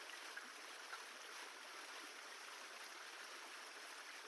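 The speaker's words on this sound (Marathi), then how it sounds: "हे बघा किती स्पीड मध्ये पाणी चालू आहे" Fast river water rushing steadily at night on the Ghod river, a constant broad hiss heard faintly and alone from a distance, with no voices.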